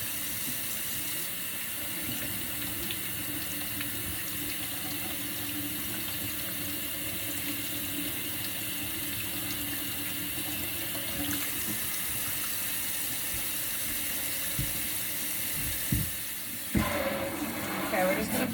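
A tap runs steadily into a sink while a child's hair is washed, a constant close hiss of flowing water that shifts and splashes near the end as the stream is disturbed.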